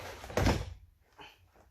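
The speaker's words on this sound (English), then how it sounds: "give it a wee thump down" The interior door card of a 2015 Volkswagen Passat is thumped down into place, one solid dull thud followed by a softer knock of plastic settling, close by.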